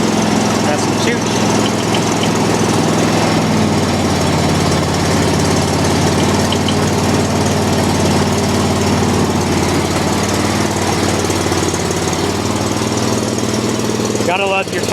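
A Kawasaki-engined John Deere riding mower with almost 600 hours runs steadily at close range with a deep, throaty idle, while a voice talks over it.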